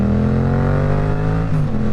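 A Yamaha R1 four-cylinder sport motorcycle engine pulls hard under acceleration, a loud, steady, close-up roar with rising pitch that briefly dips and climbs again near the end.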